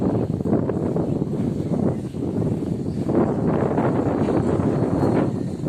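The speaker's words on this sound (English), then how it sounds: "Do you prefer me to leave the wind on with the natural sound?" Wind buffets a microphone outdoors on a Benidorm street. A loud, continuous rumbling roar with gusty surges fills the whole stretch.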